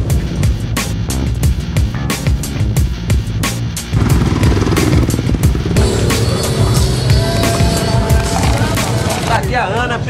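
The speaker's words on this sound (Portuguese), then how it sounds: "vamos ver agora a Sabrina acelerando junto com as meninas" Enduro motorcycles accelerate on a competition trail, engines revving loudly with rapid rising and falling bursts close by, nearly continuous and strong for the whole stretch.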